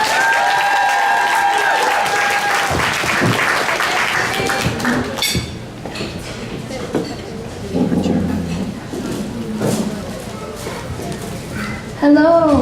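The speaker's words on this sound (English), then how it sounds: "please give a round of applause to Jessie." An audience at an International Women's Day event breaks into sustained applause that swells and then thins out, with voices and background sounds taking over as the clapping fades.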